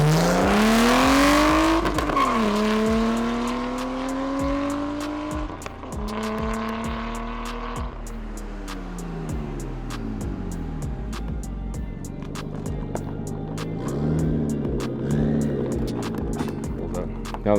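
A Nissan Laurel JDM car revving hard during a test drive, the engine climbing and dropping through repeated high-pitched sweeps as gears change, loud and close with a rough, aggressive note, fading toward a lower drone before revving again near the end.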